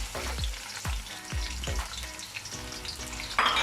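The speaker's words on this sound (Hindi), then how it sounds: "और प्याज को गोल्डन फ्राई करेंगे।" Onions hit hot oil and sizzle steadily up close, with several sharp clunks and scrapes of stirring against the pan over a crackling frying hiss.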